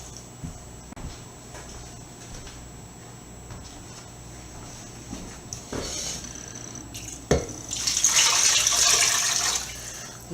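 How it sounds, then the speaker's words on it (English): Water pours steadily from a tap into a pot holding chicken bones, beginning quietly and growing louder and fuller toward the end, with a few clanks along the way. "Cover this with cold water."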